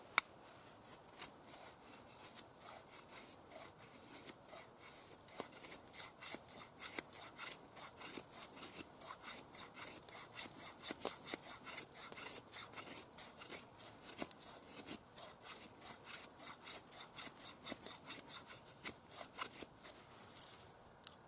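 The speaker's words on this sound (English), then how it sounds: "I prefer using that portion for feather sticking." A knife blade carves feather sticks from a piece of wood in rapid, repeated scraping and shaving strokes, a quiet, dry rhythmic rasp continuing close up throughout with no talking.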